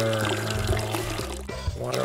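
Plants being watered in the shop-management game Weed Shop 2, a brief pouring, trickling splash of liquid that plays under busy background music.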